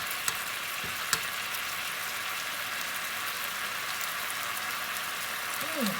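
Squid stir-fries with holy basil in a pan, giving a steady, even sizzle throughout with a couple of small clicks and a brief low sound near the end.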